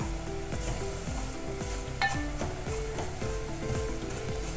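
Food frying in hot oil in a home kitchen while being browned to a light golden color, a steady loud sizzle with repeated scraping stir strokes and a brief clink, no talking.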